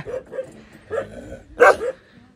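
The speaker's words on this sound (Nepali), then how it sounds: "यो कुन कुकुर हो" A dog gives a few short, yappy barks and yips nearby, spaced irregularly, with the last one loudest.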